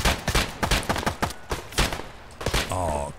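Rapid bursts of gunfire from the video game Escape From Tarkov, a fusillade of sharp close shots in quick irregular succession, ending in a sustained tonal game sound.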